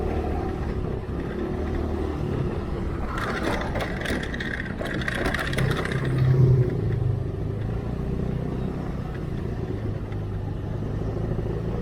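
A kid practices riding a motorcycle, its small engine droning steadily at a distance and swelling briefly louder midway before settling back to a low hum.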